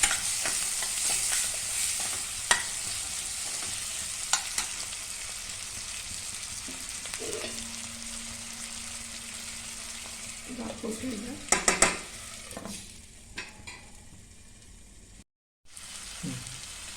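Green peas roasting with green chili, coriander and garlic paste, a continuous close sizzle broken by repeated scraping stirs and a few clattering spoon knocks against the pan, with a brief quiet gap near the end.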